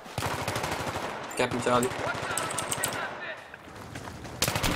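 Rapid gunfire in a team-based shooter video game, dense automatic bursts running throughout under a player's voice calling out.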